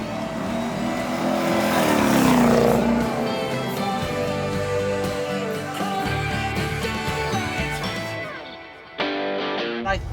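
A supercharged 5.5-litre AMG V8 fitted in a one-off Chevrolet C20 bakkie, running on a local ECU, swells into a loud rev and settles into a steady throbbing idle, close up, before a brief dip and restart.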